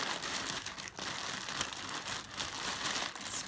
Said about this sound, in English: Let's cut it open.